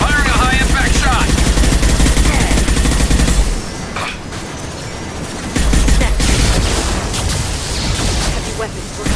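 Gunfire in the Mass Effect 2 video game: loud bursts of rapid automatic shots and heavy booming impacts, with a brief lull midway before the firing resumes, mixed with game voices and effects.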